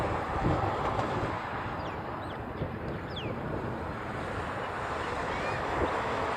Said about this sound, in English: A little 321 over my head is loud.